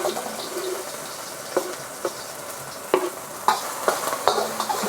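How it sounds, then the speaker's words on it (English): White and light green parts of green onion sizzle in avocado oil in a pan, a soft steady frying hiss broken by a few clinks and stirring scrapes, with no talking. "we're going to add the white and light green parts of the green onion"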